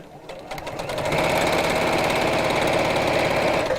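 A sewing machine stitching down the sides of a project runs in one steady, close mechanical whir that picks up speed in the first second and then holds a fast even rhythm, with no talk.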